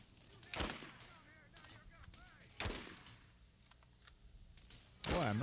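Gunfire from the video game Borderlands: three separate loud single shots spaced a couple of seconds apart, with quieter game sounds and ticking in between.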